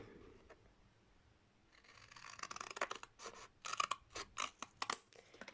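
Scissors snip through decorative paper, trimming the corners of a folded flap on a school binder album page: a quiet pause, then a quick run of sharp, close cuts and paper rustles.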